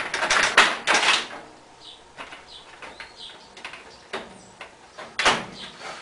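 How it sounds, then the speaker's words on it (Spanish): The door of an HP LaserJet 9050 printer being fitted during reassembly, a series of plastic clicks, knocks and scrapes in irregular bursts, fairly close, with quiet gaps between. "Como segunda pieza vamos a poner la puerta."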